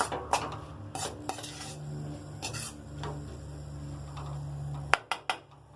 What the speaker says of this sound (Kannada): ಇದನ್ನೇನದ ಇನ್ನೊಂದು ಮಿಕ್ಸ್ ಮಾಡ್ಕೊಳ್ಳೋಣ